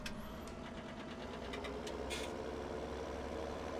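A tractor engine in Farming Simulator 17 runs at a steady idle throughout, a constant low mechanical drone with faint clicks and a brief higher whoosh in the middle, and no voices.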